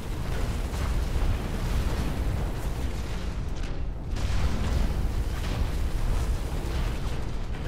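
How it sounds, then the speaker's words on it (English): Rocket explosions and heavy weapon blasts from mech combat in the Hawken video game, a dense, continuous roar of booms and bursts filling the whole stretch, loud and close, with no talk over it. "Now you got a rocket in your face,"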